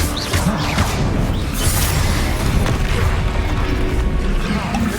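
Bombarda explosion spell cast repeatedly in a video game, a loud dense roar of booming blasts and crashing bursts with whooshing debris, continuous and close, with a voice shouting over it.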